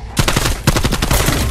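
Rapid automatic gunfire from a weapon in Cold War Zombies, a steady burst of loud, close shots in quick rhythm, with a couple of heavier thumps mixed in.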